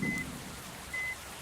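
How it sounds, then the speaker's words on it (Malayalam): Rain falls steadily in a Bus Simulator Indonesia game, a soft, even hiss with a couple of faint brief tones over it and no talking. "മഴ വന്നല്ലോ"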